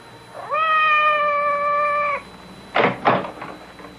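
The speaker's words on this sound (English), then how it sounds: "It sounded like Madame's cat, Francois" A cat meows outside a door in a radio drama, one long drawn-out clear meow, followed by a couple of short rustling or scraping bumps.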